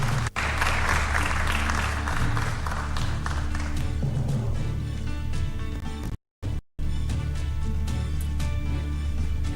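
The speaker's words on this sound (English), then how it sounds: "You can give them a round of applause." Audience applause at the 2022 Nairobi governor debate as a candidate takes the stage, a loud dense round of clapping from a large crowd, with a brief dropout partway through before the clapping resumes.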